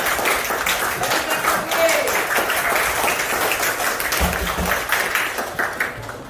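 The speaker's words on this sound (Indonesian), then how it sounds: "Kasih tepuk tangan untuk kita semua." A crowd claps and applauds continuously, a dense, lively patter of many hands with voices mixed in underneath.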